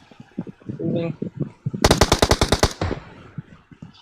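A quick burst of automatic gunfire from a PUBG Mobile match rattles off about ten rapid shots in under a second, loud and close, with people talking before and after the burst.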